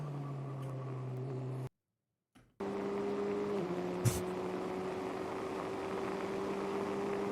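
A race car on the track at GP Explorer, heard as a steady engine drone with a sustained tone that shifts pitch slightly, and a brief sharp knock partway through, after a short gap of silence.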